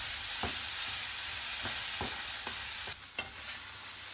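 Potatoes fry in oil with a steady, bright sizzle, and a spoon stirs and scrapes the pan every second or so.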